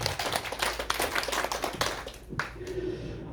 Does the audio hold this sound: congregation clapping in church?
yes